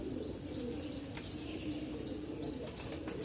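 Two chila pigeons, a domestic Dhaka breed, flap their wings and coo softly nearby. The sounds are quiet and come in scattered bursts over a low background hush.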